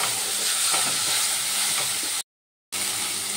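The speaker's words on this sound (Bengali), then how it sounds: "দিয়ে আবার একটু ভালো করে ভেজে নেব" Karamcha fruit frying with turmeric powder in a pan for pickle, a steady loud sizzle with scraping stirs, cut by a brief dead silence before the hiss resumes.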